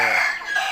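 A rooster crows on a farm, caught as a short, bright, strained fragment of the call, loud and close.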